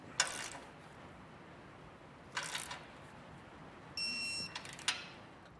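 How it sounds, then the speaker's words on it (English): A torque wrench tightens base plate hardware on a 2023 Jeep Wrangler, giving a few short sharp clicks and ratcheting bursts separated by quiet pauses, close by. "you can come back with a torque wrench and tighten it all to the amount specified"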